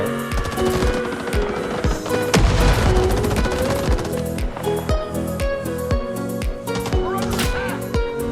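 Rapid bursts of M60 machine gun fire from the video game Rising Storm 2: Vietnam, loud and close, with dense overlapping shots layered over steady background music.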